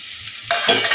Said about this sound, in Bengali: এখন আমি ভেজে রাখা বেগুনগুলো দিয়ে দেবো